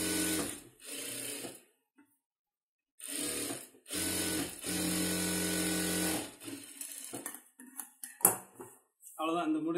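A sewing machine stitches a sleeve in bursts, its fast rhythmic whirring and needle clatter running for a few seconds at a time with pauses between, interrupted by light handling clicks and a brief voice.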